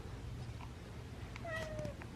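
A cat gives a short, thin meow, fairly faint, over a low background hum with no talking.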